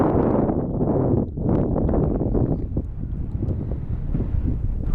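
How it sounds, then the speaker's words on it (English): Low, rumbling wind gusts at Legacy Point in Petrified Forest National Park, Arizona, batter the microphone, rising and falling in uneven bursts with no voices. "a little windy"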